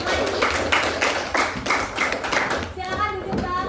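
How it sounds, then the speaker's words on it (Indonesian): Students in a classroom clap for a group that has just presented, a series of rhythmic bursts of hand claps, fairly close, tapering off as a voice speaks near the end. "Silakan tepuk tangan dong untuk kelompok lagi."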